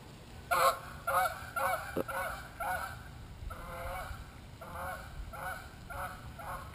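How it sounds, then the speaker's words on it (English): Canada geese honk repeatedly in loud, rhythmic bursts as they fly overhead and land on a pond at a Florida condo, the calls close and clear over quiet outdoor background. "You got the Canadian geese flying overhead and landing in your pond."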